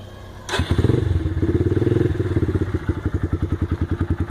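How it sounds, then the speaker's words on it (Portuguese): A 2009 Yamaha Factor 125 motorcycle with a sport exhaust fires up with a thump, then revs in a loud, close, throaty burble that settles into rhythmic pulsing exhaust pops. "Barulho do cano roncar. Dá uma acelerada."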